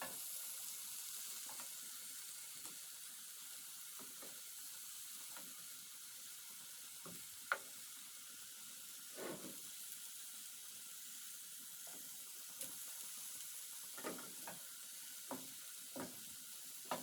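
Chicken pieces fry over low heat in a pan, a faint steady sizzle with scattered soft pops and crackles spread across the stretch, no voices.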